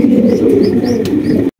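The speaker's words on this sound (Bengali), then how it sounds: "একদম বিগ সাইজের ব্ল্যাকলেস বন্টিনেট কবুতর।" Large pigeons coo in a low, throaty, continuous murmur, close and fairly loud, before cutting off abruptly near the end.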